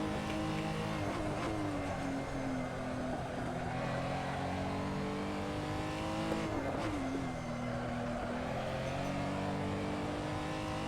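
A Renault R.S. 01 race car in a sim racing game drifts out of a corner at Red Bull Ring. Its engine drones loud and continuous with shifting tones and a brief tire squeal near the middle.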